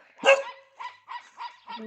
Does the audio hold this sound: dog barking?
yes